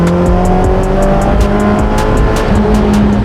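Modified Mazda Miata engine on a hot lap, a loud, steady, close engine drone holding high revs with faint tire noise, continuous throughout with no talk.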